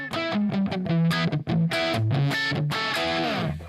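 An electric guitar played through an Empire distortion pedal rings out close and loud in a short riff of thick, saturated single notes and chords with sustained, gritty overtones, with no talking.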